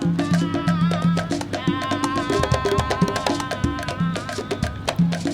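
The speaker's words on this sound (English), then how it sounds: "The Diana section, which is the typical introduction to Wawanko." The Diana introduction of a Cuban guaguancó rumba plays as a dense, loud stretch of hand drums and percussion, with steady rhythmic hits under sustained vocal or melodic tones running continuously throughout.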